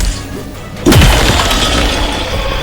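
A shatter attack in the action game Atlas Fallen bursts in as a sudden crashing, breaking impact over a steady game soundscape, followed by a sustained rumbling tail.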